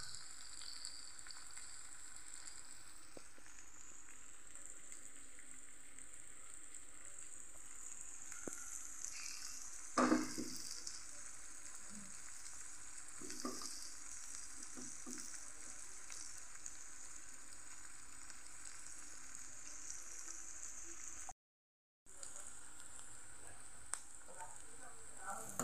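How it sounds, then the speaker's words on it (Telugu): Chopped onions and tomatoes fry in a pan for a prawn and fish curry, giving off a continuous soft sizzle with occasional stirring clatters and brief louder bursts, heard close with a short silent gap near the end. "అమ్మ ఉల్లిపాయ చక్క వేగిపోయింది."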